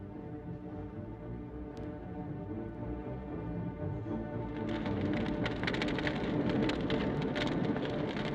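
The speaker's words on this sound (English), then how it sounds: "the rains start to pour" Steady heavy rain pours down, a dense hiss of drops that swells louder and more spattering partway through, with no voices.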